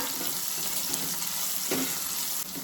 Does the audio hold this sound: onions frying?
yes